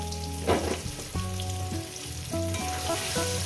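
Chicken giblets for a giblet curry frying in a pan until reddish: a steady, fairly quiet sizzle spread across the whole clip, partly covered by background music with sustained tones.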